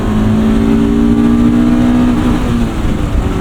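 A 1995 Honda Civic Si's 1.6-liter single overhead cam engine revs steadily and loudly from inside the cabin, holding a rising, strained pitch before easing off slightly near the end.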